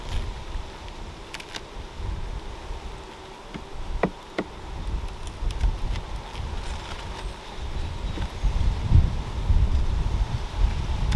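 Honeybees buzz steadily around an open hive during an inspection, a dense near drone with scattered clicks of frames and some wind rumble, no voices.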